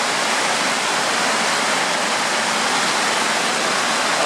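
A steady, roaring rush of falling water from an underground waterfall in the Riese complex at Ludwikowice Kłodzkie, dense and unbroken throughout, heard close by.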